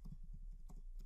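Quick rhythmic clicking of computer keyboard keys while typing an SQL command, a short run of close, soft keystrokes with no talking.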